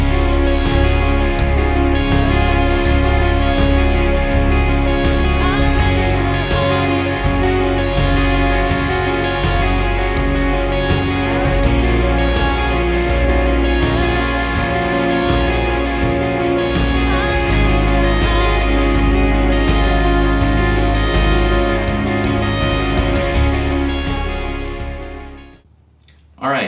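Electric lead guitar rings through the chorus of a worship song inside a full, loud band mix, playing steadily for about 25 seconds before the music cuts off abruptly at the end.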